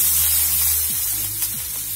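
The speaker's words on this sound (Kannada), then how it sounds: "ಕರ್ಬೇವಿನ ಸೊಪ್ಪು, ಕೊತ್ತಂಬರಿ ಸೊಪ್ಪು ಹಾಕಿ ಫ್ರೈ ಮಾಡ್ಕೊಳ್ಳಿ" Curry leaves and coriander leaves frying in hot oil for onion gojju, a steady close sizzling hiss with no talk.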